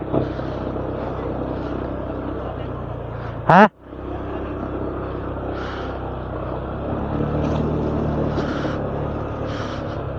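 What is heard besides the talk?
motorcycle engine running while crossing river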